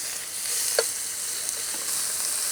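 Beef sizzles in hot oil in a pan outdoors on a cold day, a steady close hiss of frying with a few small crackles and pops, no voices.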